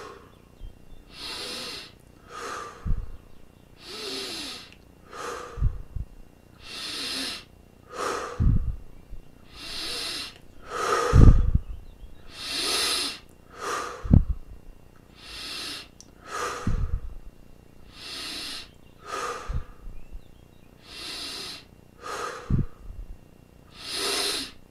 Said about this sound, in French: Et on prend une vingtaine de grandes respirations.